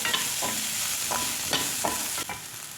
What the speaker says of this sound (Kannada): ಈ ಸಮಯದಲ್ಲಿ ಇದಕ್ಕೆ ಹಚ್ಚಿಟ್ಕೊಂಡಿರೋಂಥ ಒಣಗಿರೋ ಮೆಣಸಿನಕಾಯಿದು ಹಾಕ್ಕೊತಾ ಇದ್ದೀನಿ.